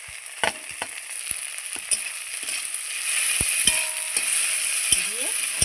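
Okra frying with chopped green chili and black cumin gives a soft, steady sizzle under scattered sharp utensil taps and scrapes as it is stirred, growing a little louder toward the end; no one talks.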